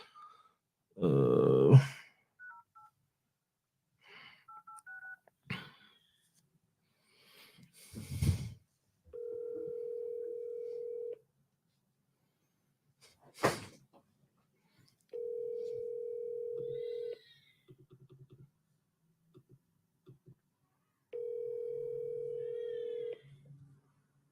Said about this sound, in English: I don't know why Lance never answers his phone